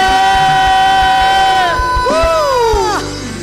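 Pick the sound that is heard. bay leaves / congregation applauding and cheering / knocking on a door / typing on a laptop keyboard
congregation applauding and cheering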